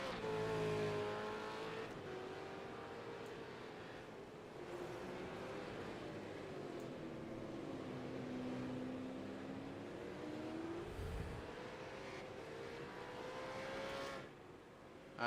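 V8 Veterans race cars on Kumho tires pull into the pits during a race, engines droning and shifting pitch from a distance, with a steady crowd-and-track wash and a passing low thump midway.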